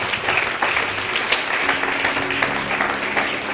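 A church congregation applauding, a dense, steady wash of clapping that fills the whole moment at fairly loud level, with a faint voice mixed in underneath.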